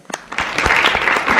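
Press conference audience breaking into applause as the Maleficent: Mistress of Evil cast is welcomed to the stage, clapping building quickly from a few claps into a loud, dense wash.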